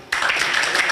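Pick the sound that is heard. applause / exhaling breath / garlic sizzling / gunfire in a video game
applause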